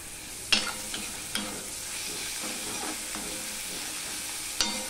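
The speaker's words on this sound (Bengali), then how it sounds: "পেঁয়াজ বাটাটা কিছুটা ভাজা হয়েছে, কাঁচা গন্ধটা চলে গেছে পেঁয়াজের।" Onion paste fries in a pan with a steady, continuous sizzle, while a spatula scrapes and knocks against the pan at intervals as the paste is stirred.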